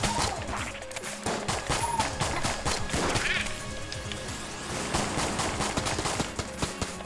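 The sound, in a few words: ghosts firing AK-47s in video game Enter the Gungeon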